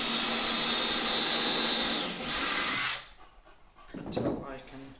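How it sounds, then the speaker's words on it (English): A power drill whirs loudly for about three seconds driving screws into a wooden dinghy build, then cuts off, followed by a brief softer rattle. "I'm going to put a couple of screws in the middle part here. And where's my drill?"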